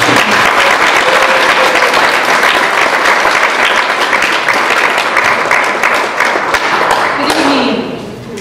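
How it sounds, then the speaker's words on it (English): A book release audience gives a speaker a loud, dense round of applause, steady clapping throughout that starts to taper off near the end. "let's give a round of applause to her"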